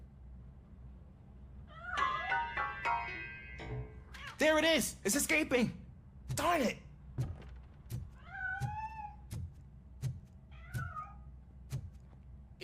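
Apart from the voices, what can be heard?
cat meowing, from a video game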